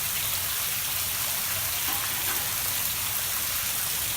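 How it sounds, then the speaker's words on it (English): Rain begins falling outdoors beside a barbecue grill, a steady, dense hiss of drops spread evenly throughout with no talking. "It is starting to rain."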